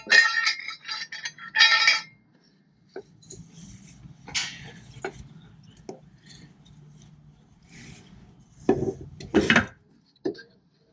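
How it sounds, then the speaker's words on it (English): Light taps from a small bowl used as a driver to seat a rear main seal on a Subaru EJ255 engine, a few sharp knocks spread out with quiet handling noise between them. "Next, I'm going to grab this little bowl here and hit it in."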